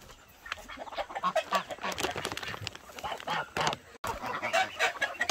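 Farm chickens cluck and call continuously and fairly close, with overlapping bird noise and a person talking at times.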